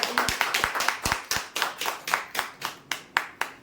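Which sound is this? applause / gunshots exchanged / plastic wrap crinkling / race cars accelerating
applause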